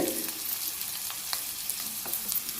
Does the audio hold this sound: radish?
yes